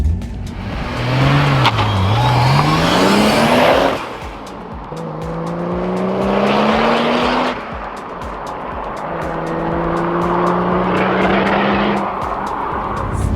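A turbocharged Toyota Supra revs hard through several gears, pitch climbing then dropping at each shift, loud and close with a whooshing intake sound.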